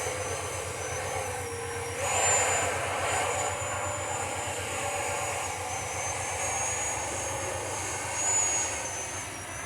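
A red Freewing Ares 3D 90mm electric ducted fan RC jet on an 8S setup flies overhead with a steady, high, whining fan roar that swells as it passes twice, near and loud throughout.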